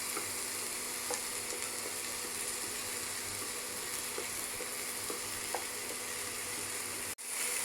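Tomatoes cook down in a pan for Kerala-style kadala curry, giving a steady, close frying sizzle with faint scraping ticks and no voices, ending in a sudden drop near the finish.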